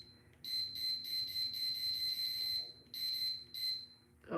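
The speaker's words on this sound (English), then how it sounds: "Sorry about the beeping," A heat press sounds a series of high, piercing electronic beeps in bursts, some long and some short, fairly close and loud over a quiet room, with a brief clatter at the end.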